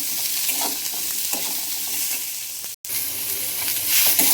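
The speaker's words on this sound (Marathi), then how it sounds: "कांदा पण चांगला भाजून घ्यायचा बघा लालसर होईपर्यंत" Onion and garlic sizzle steadily as they fry in a pan for a Maharashtrian mutton thali, with stirring scrapes throughout and one brief dropout partway through; no voices.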